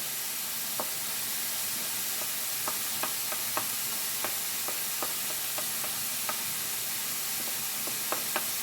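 Shrimp and garlic fry Chinese-style in a pan with a steady, close sizzle and hiss, broken by scattered small pops and crackles throughout, with no talking.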